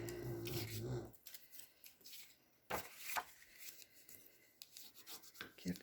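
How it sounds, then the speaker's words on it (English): A tool rubs firmly over embossed paper on a card base, a few short scraping and rasping strokes close by, with brief gaps of quiet between them. "Give that another little burnish."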